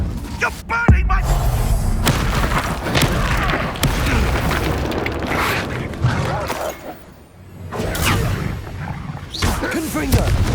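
Booming explosions and crashing impacts from the Confringo blasting spell in the video game Hogwarts Legacy hit repeatedly amid chaotic combat noise, with voices shouting over the action.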